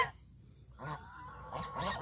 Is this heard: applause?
no